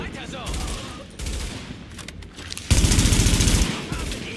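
Gunfire in The Division video game, with scattered shots and then a loud, rapid automatic burst lasting about a second, heard close amid game noise and some talking.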